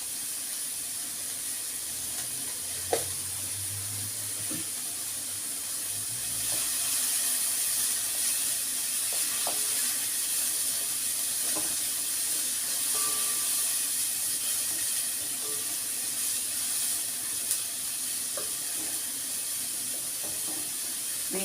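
Green beans sautéing in a pan make a steady, even sizzling hiss that carries throughout, with a few faint clicks and small knocks, and no voices.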